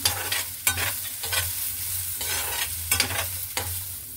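Cashews fry in a pan for cashew chutney, a continuous close sizzle broken by rhythmic scraping stirs about every half second.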